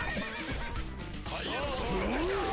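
A horse whinnies with a rising and falling cry in the video game JoJo's Bizarre Adventure: Eyes of Heaven, surrounded by busy game background noise and hooves clattering.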